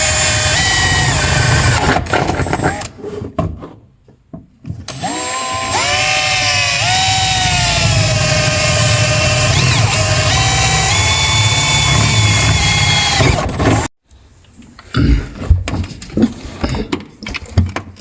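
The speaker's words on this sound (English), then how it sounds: "Got our holes drilled." A power drill bores holes to mount the accelerator pedal in a 1987 Raven mid-engine Trans Am. Short bursts give way to a loud, sustained whining drone with shifting pitch, which cuts off abruptly and leaves quieter clatter.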